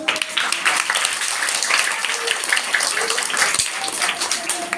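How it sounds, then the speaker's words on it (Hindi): Audience applause at a stage show of comic Pakistani political impersonations, steady dense clapping throughout with a faint voice underneath. "महल से आए हुए मेहमान मरियम नवाज को आप सबकी तालियों में।"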